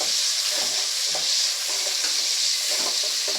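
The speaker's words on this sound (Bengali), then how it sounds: "পেঁয়াজটাকে একটু ভালো করে ভেজে নেব।" Chopped onions frying in a pan for a broccoli dish give a steady, close, hissing sizzle with soft scraping stirs rising and falling through it, and no voices.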